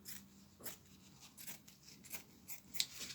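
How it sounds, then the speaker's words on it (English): Scissors snip through a new piece of cloth beside a 1930 Merrow 60 ABB overlocker, several quiet crisp cuts spaced irregularly, close but faint with no talking. "I'm going to cut this, cut a new piece here"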